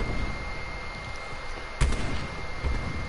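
Gunfire in the Black Ops 4 video game during a Search and Destroy match, a single sharp shot cracking out midway over a steady low rumble, with a fainter thump following shortly after.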